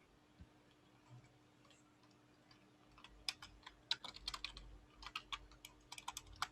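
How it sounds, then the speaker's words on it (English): Computer keyboard typing at close range, a short run of quick clicking keystrokes starting partway in and growing denser and louder toward the end over a faint steady hum, with no talking. "You could just start typing."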